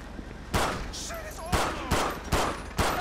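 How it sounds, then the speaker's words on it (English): Video game shootout in GTA LSPDFR with multiple suspects: loud, close gunshots crack out in an uneven volley of about five blasts over a steady background hum, a few faint tones between shots. "Shots fired, we're prosperity, we got shots fired, multiple suspects"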